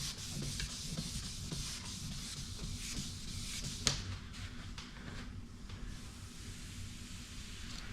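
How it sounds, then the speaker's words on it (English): Steady wet rubbing of 2000 grit sandpaper across car paint, smoothing out earlier 1500 grit scratches while repairing paint runs; a close, continuous scratchy hiss with regular back-and-forth strokes and one brief click. "I'm just kind of sanding enough to"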